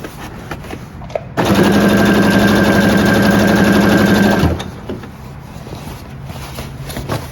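A sewing machine stitches the first seam of a camouflage groundsheet in one loud, steady, close whirring run of about three seconds, with quiet room noise before and after.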